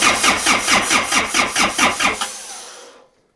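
A freshly rebuilt Yanmar 4TNE98 diesel from a Caterpillar 216 skid steer cranks in a steady, rapid rhythm of about ten strokes before it winds down and stops in a chilly shop, close and loud.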